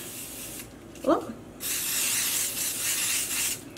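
Color mist spray paint hisses over a stencil onto a knitted sock blank: a short voice exclamation, then a steady, close, breathy spray lasting about two seconds.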